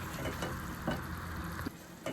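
Ground poppy seed chutney roasting in a pan, a soft, continuous frying sizzle with occasional faint stirring scrapes, close and low in level.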